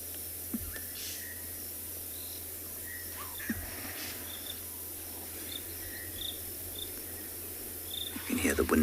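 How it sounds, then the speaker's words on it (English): Crickets trill steadily through a night in the African bush, a continuous insect chorus with a few brief distant chirps, fairly quiet, and a louder rustle near the end. "The crickets are calling."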